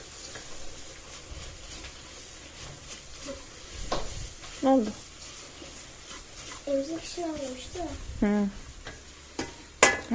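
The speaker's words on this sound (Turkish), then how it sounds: "Şimdi irmiğim kavruluyor." Semolina roasting and being stirred in a pan, a soft scraping and faint sizzle running under a voice talking throughout, with a few clinks near the end.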